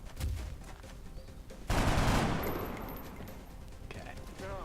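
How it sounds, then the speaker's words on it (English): Regular gunfire from a soldier aimed at an alien in the XCOM video game: a sharp opening shot followed by a loud, dense burst of rapid fire that decays gradually into a lingering rumble, with no talk over it. "try to kill this alien with just regular fire"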